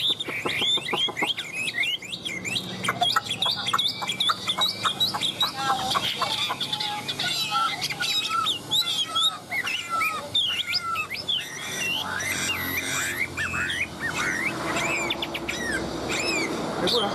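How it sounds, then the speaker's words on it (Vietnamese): A caged Chinese hwamei songbird sings on and on, a loud, close run of rapid whistles, trills and slurred phrases that keeps going without pause, with a faint voice now and then underneath. "Chim vẫn hót rất là ok nhá."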